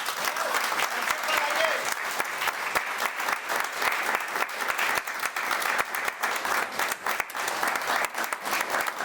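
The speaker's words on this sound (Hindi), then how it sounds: "ताली तो बजा ही सकते हैं" Crowd at an evening celebration event claps steadily for an invited guest, a continuous wash of many hands at moderate distance, with faint voices mixed in.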